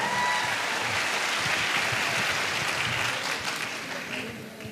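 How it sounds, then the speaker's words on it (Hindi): Steady, dense applause from a large leadership-event audience, loud and sustained throughout, easing slightly toward the end. "मैं चाहूंगा संजीव सर के लिए एक बार जोरदार तालियां"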